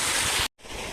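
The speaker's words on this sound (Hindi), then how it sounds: "देखिए बोरिंग से कितना पानी गिर रहा है।" Water gushes from a borewell pump in a farm field in a close, dense hiss. It breaks off in a sudden short dropout and then resumes.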